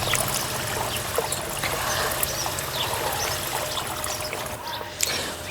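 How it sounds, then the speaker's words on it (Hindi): Water pours in a steady, continuous stream into a bucket of cow dung being thinned into liquid plant fertilizer and pesticide, sounding as a close, even splashing trickle throughout with no talk. "इस तरह से आप इसमें और भी पानी मिला सकते हैं"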